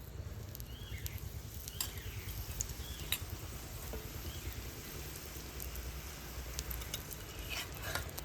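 A cauliflower paratha cooks on a dry tawa with a soft, continuous crackling sizzle, faint and even like light rain, with a few small scrapes.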